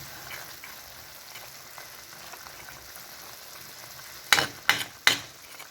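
Sliced white onion dropped into a pan of adobo chicken liver, a steady soft sizzle with a few sharp metallic clanks of a utensil near the end, close by and without talk.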